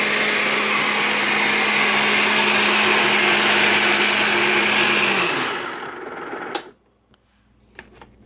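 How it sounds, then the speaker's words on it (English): A kitchen blender whirs loudly and steadily, mixing sugar and milk for cassava pone, then winds down and stops, leaving a few faint clicks and knocks. "I've got the blender going just to break down the sugar and the milk"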